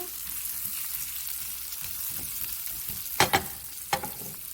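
Sausage, pepper and onion fry in a pan, a steady close sizzle running throughout, with a few sharp scraping knocks of the stirring utensil near the end.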